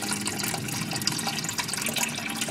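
Water poured into a small dish set on the gravel of a frog aquarium, a steady splashing, trickling pour that runs continuously and fairly close, with no talking.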